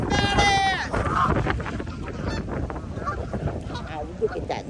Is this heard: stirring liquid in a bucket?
no